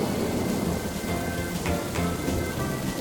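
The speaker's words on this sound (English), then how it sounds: "It's raining" Cartoon heavy rain pours down, a dense continuous hiss with a deep rumbling undertone like distant thunder.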